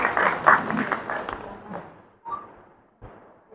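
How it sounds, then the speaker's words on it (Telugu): An indoor audience at a club-hosted governor's visit at a temple claps together in a burst that fades out within about two seconds, followed by a couple of brief isolated sounds. "సో గవర్నర్ గారికి ఒక్కసారిగా గట్టిగా చప్పట్లు కొడదాం."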